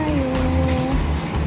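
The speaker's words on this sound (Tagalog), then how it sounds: "Ayan na yung bus na sasakyan natin, guys." A double-decker bus pulls up at a stop on a route from Hang Hau to Sha Tin, its engine rumbling loudly nearby with a brief tonal whine as it slows and settles.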